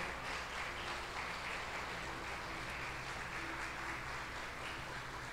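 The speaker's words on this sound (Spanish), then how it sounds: "dale fuerte ese aplauso al Señor" A church congregation applauding together, a dense steady roar of clapping from many hands that continues evenly throughout, with no talk over it.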